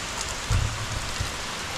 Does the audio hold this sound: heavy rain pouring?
yes